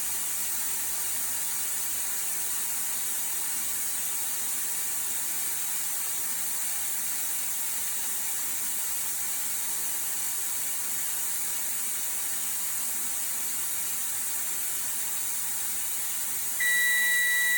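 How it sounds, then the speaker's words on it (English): Compressed air hisses steadily and loudly as a bus's primary air tank is drained, a continuous rush lasting throughout, with a buzzer tone sounding near the end and no one speaking. "I'm going to drain from my primary tank"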